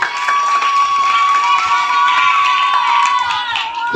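A loud, sustained crowd cheers and applauds for returning winners at a Maulid Nabi prize-giving ceremony, with children shouting amid steady clapping and no break in the noise.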